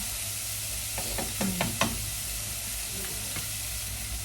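Sayote and chicken breast sauté in hot oil with a steady broadband sizzle, broken by a few sharp clinks and scrapes of a spatula in the pan.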